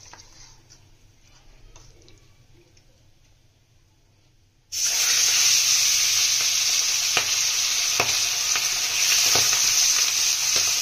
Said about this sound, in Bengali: তেল গরম হয়ে গেছে, মাছগুলো ভেজে নেবো, হালকা করে ভেজে নেবো